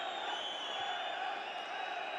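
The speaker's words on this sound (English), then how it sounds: "Crowd quick to get involved." A steady indoor basketball arena crowd roars and murmurs in response to a foul during a UCAM Murcia versus Le Mans Champions League game, a continuous distant wash of voices with no distinct cheers.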